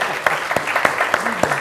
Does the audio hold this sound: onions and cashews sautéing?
no